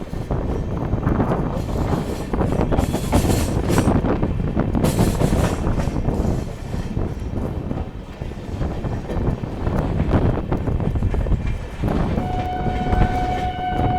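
Amrit Bharat Express train to Mumbai rolling along, heard from on board: a steady, loud rumble of wheels and carriage with wind rushing past throughout, and a faint horn-like tone near the end.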